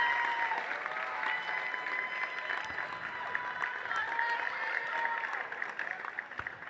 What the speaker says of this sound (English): one more round of applause for Tori Rutherford and all 3 of our women's basketball senior